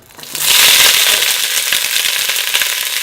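Peppers, celery, onion and garlic dumped into hot oil burst into a loud, steady sizzle that rises within half a second and holds strong and close, crackling continuously with no voices.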